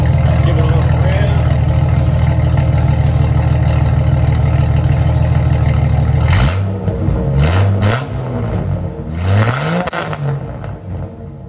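Jeep Grand Cherokee engine with no muffler, idling with a loud deep rumble, then revved up several times in rising and falling swells.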